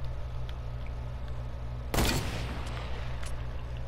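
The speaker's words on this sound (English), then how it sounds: "We're getting sniped at from somewhere." A single sharp sniper rifle shot cracks out mid-way through a Fortnite match, loud and brief with a short decaying tail, over a steady low game hum.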